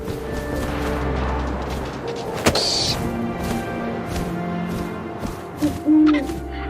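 An owl hoots in the video game What Remains of Edith Finch, a few low tonal calls over a steady windy ambient bed, with a sharp thwack midway and a louder hoot near the end.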